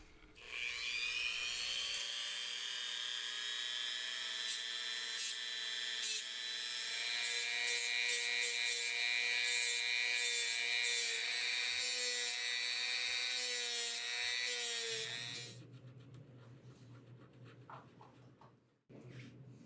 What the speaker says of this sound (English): So I figured I'd have to remove the whole thing and sand it down. And I did this with my Dremel.